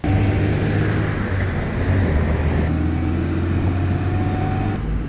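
A Lada car driving, its steady engine drone and road rumble loud and continuous from start to finish with no talking.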